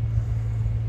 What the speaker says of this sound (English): We are at the car. You can hear it running, warming up in the background.